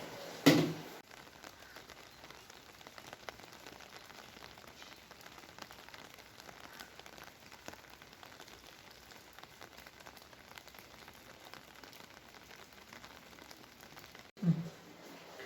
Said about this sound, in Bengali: আজকে যা বৃষ্টি শুরু হয়েছে, সকাল রাত থেকেই বৃষ্টি শুরু হয়েছে